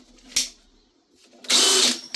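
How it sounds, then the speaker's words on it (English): A hammer drill fires in two bursts, a short blast and then a longer buzzing run of about half a second, loud and close, with quiet between them. "So hammer drill, they're good."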